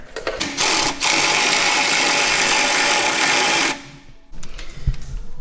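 Power tool whirring loudly and continuously as it drives bolts into a Golf Mk7 Sportwagen shock mount during a Bilstein B8 shock install, starting in short bursts and then holding a long steady run before stopping, followed by a few clanks.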